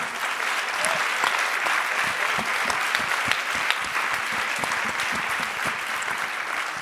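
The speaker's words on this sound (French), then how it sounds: "On peut vous applaudir." An audience at a round-table discussion on women and responsible leadership applauds steadily, with a dense patter of clapping hands holding at a moderate, even level throughout.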